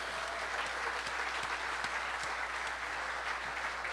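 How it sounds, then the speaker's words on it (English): Faint, distant audience applause at an evening skipper's meeting for the Chicago Yacht Club Race to Mackinac, a steady patter of many hands continuing evenly. "So let's give all of them a big round of applause."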